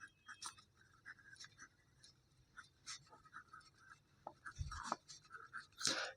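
Pen scratching on paper while an equation is written out by hand for a class 12 differential-equations exercise, with short strokes in an uneven rhythm, close and quiet, and a brief low thump near the end.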